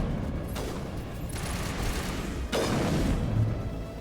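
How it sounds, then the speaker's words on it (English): Video game sniper rifle shots, two heavy booming blasts a couple of seconds apart over a constant rumbling background. "This is a powerful sniper rifle."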